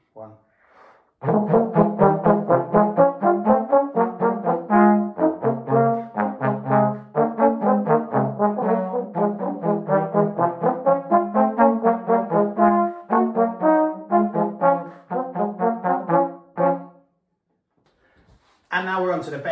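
Brass section of a school-style ensemble, including tuba, sounding low sustained notes together in a series of loud, rhythmic blasts for about fifteen seconds, followed by a brief pause and the start of another note.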